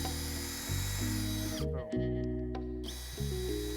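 A power drill drives screws into a wooden fence board with a loud, steady high-pitched whine that stops briefly twice and restarts, close up with no talking.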